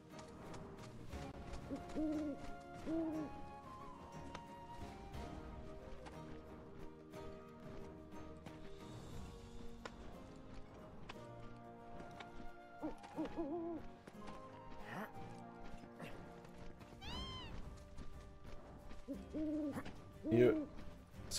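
Owl-like hoots sound within a busy game soundscape in Final Fantasy VII Rebirth, scattered at moderate volume over music and ambient layers, with a few louder calls near the end.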